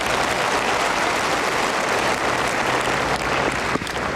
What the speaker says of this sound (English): Always gets a round of applause,